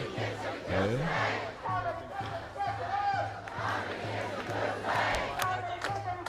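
A large rally crowd in Sydney, an anti-Herzog protest, rumbles with mixed shouting and chanting voices, steady and fairly loud throughout, with low hum underneath.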